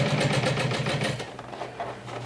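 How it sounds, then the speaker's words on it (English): A sewing machine runs steadily at slow speed, stitching a 3/8-inch seam around a combined handbag, backpack and crossbody bag, its needle chattering in a fast even rhythm close by that eases slightly near the end. "So now I'm going to go ahead and stitch with a 3/8 of an inch seam allowance slowly all around"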